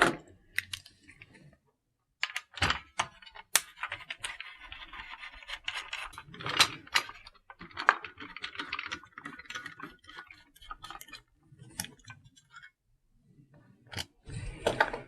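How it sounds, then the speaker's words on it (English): Small screws being worked out of a Famicom console, a scattered series of sharp ticks, scrapes and clicks from a screwdriver and plastic shell, close and fairly quiet with pauses between bursts. "I'll take the screws out first"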